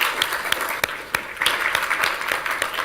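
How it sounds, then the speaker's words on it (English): Audience applause for a panel of speakers at a science talk on the brain, steady dense clapping from a crowd, fairly close and sustained, with no talking over it. "Another round of applause for our marvellous speakers."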